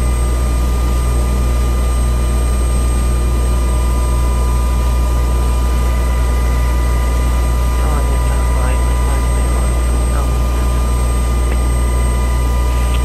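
A UH-60 helicopter in a flight simulator game spools up for takeoff at an airfield, a loud steady engine drone with a constant low rumble, while radio voices talk over it.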